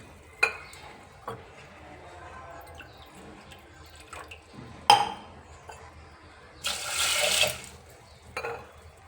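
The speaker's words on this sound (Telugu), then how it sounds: "కప్పు కందులకి రెండు కప్పుల వాటర్ని వేసేసుకుందాం" Water splashes and trickles into a container of soaked pigeon pea lentils in a couple of bursts, with small clinks and stirring noises around them, close and fairly quiet.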